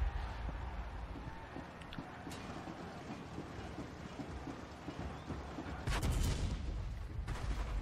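Tank cannons fire in the World of Tanks video game, with a T-62A in play. A few sharp, heavy booms break through a constant rumbling engine bed, with the strongest blasts near the end.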